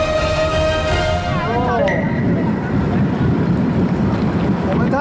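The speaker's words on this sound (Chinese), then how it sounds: "随着快艇越开越近" A speedboat runs across open sea near Penghu, its engine roaring loud and constant, with heavy wind buffeting and water rushing alongside.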